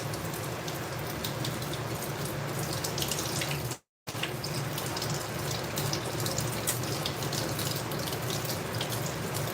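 Steady running water from a tap while fresh ginger is cleaned, a continuous close splashing hiss with one brief break, and no talking.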